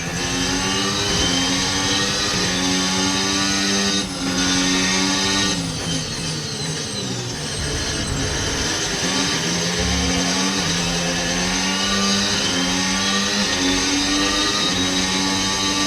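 An F1 car engine in the video game F1 25 screams continuously at high revs, loud and close, with gear-shift dips and rising pitch sweeps under an engine losing power.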